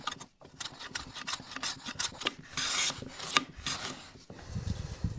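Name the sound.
cutting long thin wood shavings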